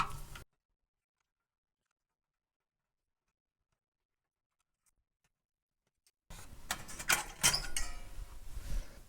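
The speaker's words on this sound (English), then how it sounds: "from here we have, I believe, 9 screws, 9 Phillips screws all around the outside to remove" Phillips screws being backed out of a Sega Genesis (Mega Drive) console shell, with close mechanical clicking and ratcheting of the screwdriver and plastic, brief at the start, near silence in between, then busier handling at the end.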